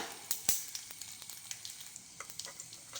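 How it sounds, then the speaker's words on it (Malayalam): A soft bubbling sizzle of rasam boiling in a pot, with scattered small pops and crackles, steady and fairly quiet, with no voices. "നമ്മുടെ രസം തിളച്ച് തുടങ്ങിയിട്ടുണ്ട്. നന്നായിട്ടൊന്ന് തിളക്കട്ടെ കേട്ടോ."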